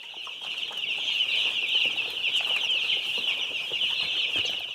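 Chickens in coops on a chicken farm, a dense continuous chorus of clucking and squawking from many birds, loud and steady throughout.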